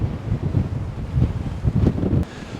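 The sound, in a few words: strong wind blowing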